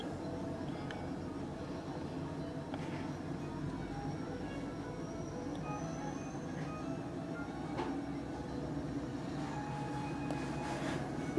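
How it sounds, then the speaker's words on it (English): A Norfolk Southern mixed freight train led by an SD60M locomotive rumbles steadily at moderate distance, a low continuous drone with faint rattles and squeals throughout. "Here comes an NS train actually led by an SD60M."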